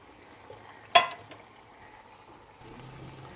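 Fried prawns are stirred into ridge gourd and potato vegetables in a pan: one sharp clank of the spatula against the pan, then a soft, steady sizzle.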